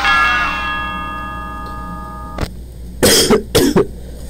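After a fading bell-like chime, a person coughs a few times in close succession, loud and near against a quiet room backdrop during Five Nights at Freddy's gameplay.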